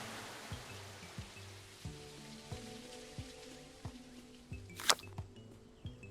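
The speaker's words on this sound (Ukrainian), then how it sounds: "Ми торкнулися хмаринки над грибочком і дощ пішов." Gentle rain patters steadily in the cozy indie game Tukoni, a soft hiss of drops under quiet, rhythmic musical tones, with one brief brighter chime partway through.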